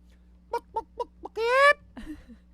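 A voice imitates a chicken, giving four short clucks followed by a drawn-out squawk and a brief low chuckle.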